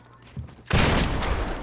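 Gunfire in a video game erupts after a couple of faint pops into a dense, loud burst of rapid shots that keeps going to the end.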